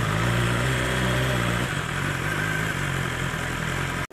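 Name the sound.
BMW S1000XR motorcycle engine idling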